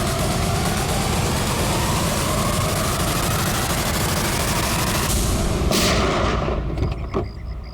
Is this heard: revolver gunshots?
yes